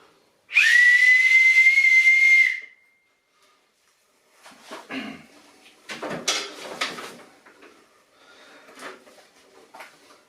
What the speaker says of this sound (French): le drapeau bien levé, enroulé comme ça, et un sifflet type marine